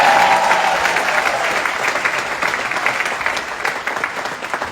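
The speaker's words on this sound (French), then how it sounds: "s'il vous plaît, applaudissez au moins pour mon habillement" Dense applause fills a Casino de Paris show, a steady wash of many hands clapping throughout with a faint voice briefly audible at the start.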